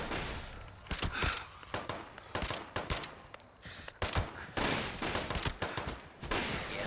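Rapid gunfire from Fallout 76, repeated loud shots and bursts rattling off in quick clusters, with heavy thuds mixed in and no talk over the shooting.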